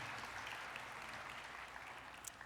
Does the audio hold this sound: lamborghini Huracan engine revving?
no